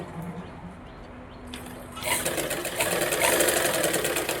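A sewing machine stitching a blouse lining starts up after a quiet pause and runs at a quick, steady mechanical whir that grows louder and holds near the microphone.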